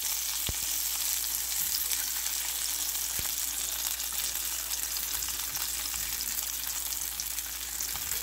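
Sweet potato gnocchi browning in a hot pan make a steady, even sizzle and fry that runs throughout at moderate level, broken by a couple of faint clicks or taps, with no voices.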